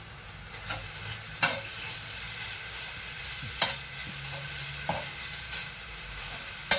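Minced pork cooks in a dry pan without oil, giving a steady sizzle broken by several sharp spatula clacks and scrapes at irregular intervals, up close with no talk.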